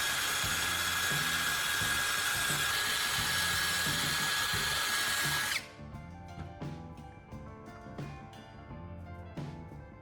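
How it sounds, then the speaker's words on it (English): A power drill whines loudly and steadily as it bores a small hole into a plastic phone charger casing, then stops abruptly, leaving quieter clicks and handling taps for the remaining seconds. "I'll drill a small hole into the plastic casing of the charger."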